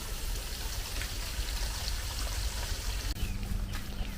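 Water pours steadily into household containers being filled up during the rainy season, a continuous close gushing stream that shifts in tone near the end.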